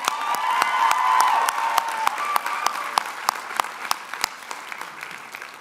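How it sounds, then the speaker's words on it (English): College commencement crowd applauds with some cheering, a broad swell that starts full and fades, leaving a few distinct nearby claps ringing out sparsely at the end. "Just one more round of applause."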